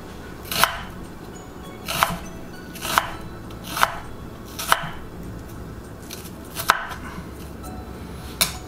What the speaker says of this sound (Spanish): Vamos a cortar la cebolla en juliana para agregársela a la salsa.